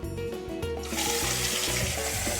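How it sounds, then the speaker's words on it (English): Water runs from a tap and splashes into a pan, three cups measured out as the base of a broth for papadzules; a steady close rush of pouring and splashing that swells and continues throughout, with no talk. "I'm going to measure 3 cups of water here and pour that into our pan."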